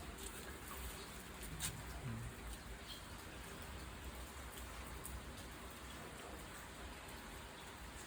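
Steady, continuous rain falling after days without pause, an even hiss of drops on surfaces with a faint bird chirp now and then, heard from indoors.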